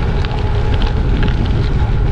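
Strong storm wind roars into the microphone of a gravel cyclist riding exposed near Geneva, a loud, steady buffeting rumble that covers everything else.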